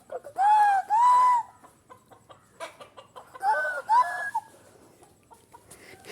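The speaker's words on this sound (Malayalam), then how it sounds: "കോഴികൾ" Chickens cluck and call nearby in two loud bursts of rising, squawky cries separated by quieter scratching and scattered small clucks.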